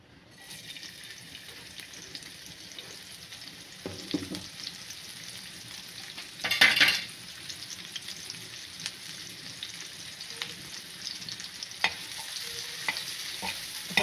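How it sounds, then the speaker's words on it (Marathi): Onion frying in a few spoons of oil on a flat tawa for egg masala, a steady crackling sizzle throughout with soft stirring scrapes and a brief louder burst midway, no talk. "आता आपल्याला पहिला कांदा भाजून घ्यायचा आहे."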